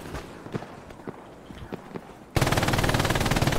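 Soft scattered thumps give way to sudden, loud rapid-fire machine gun bursts in the game Hell Let Loose, sustained and close.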